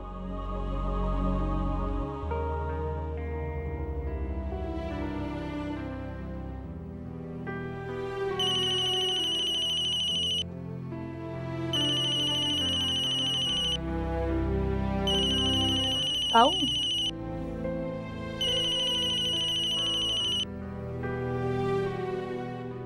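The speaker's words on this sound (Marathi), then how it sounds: "वैदेहीला फोन करून शुभेच्छा देते." A mobile phone ringtone rings in four repeated bursts, loud and close, over a melodic soap-opera music track in a Marathi TV drama scene.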